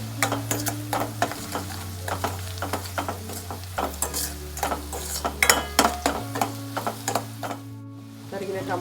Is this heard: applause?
no